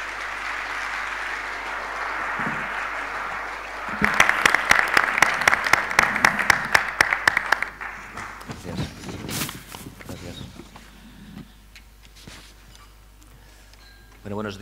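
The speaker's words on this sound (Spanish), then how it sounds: "quiero darle la bienvenida con un fuerte aplauso" A burst of loud applause welcoming a speaker to an event swells up after a stretch of background murmur, claps dense and bright for several seconds before fading out into quieter movement.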